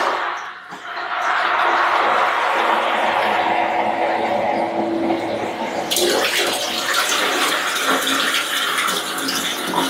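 A Cleartide submersible sump pump hums as water churns and gushes steadily, the rushing growing louder and brighter partway through.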